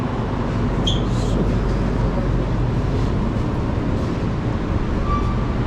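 An MRT Kelana Jaya line train in Kuala Lumpur runs with a steady, loud low rumble and rolling hum, a few faint high squeals and tones rising briefly over the continuous noise.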